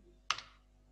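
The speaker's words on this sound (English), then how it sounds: "I am typing" A single quick keystroke on a computer keyboard, a sharp, close click that fades quickly in an otherwise quiet room.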